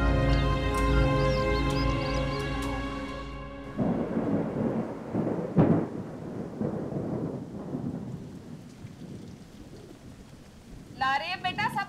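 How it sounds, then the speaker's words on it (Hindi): A rainstorm outside with rumbling thunder: a heavy rolling roar gives way to a continuous wash of rain with a sharp crack midway, while music plays at the start and a brief sound breaks in at the end. "बाहर बारिश हो रही है।"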